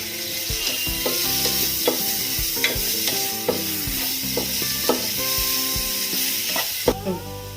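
Shredded cabbage stir-fries in a pan with salt and soy sauce for vegetable fried rice, a loud continuous sizzle punctuated by repeated scraping and clinking of a spatula against the pan, no talk.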